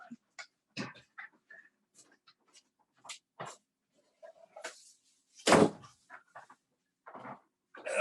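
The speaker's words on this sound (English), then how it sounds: "that little dog is driving me crazy" A small dog whimpers and pants indoors near a door, in short scattered bursts amid other household noises and a louder bump partway through, with a person speaking briefly.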